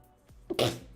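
A single close sneeze: a quick sharp intake of breath followed by a burst of air.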